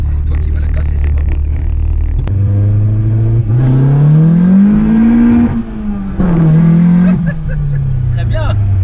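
A VW Golf 2 GTI 16V turbo engine revs hard up close, its pitch climbing and falling in two long pulls after a sharp click, with people talking over it.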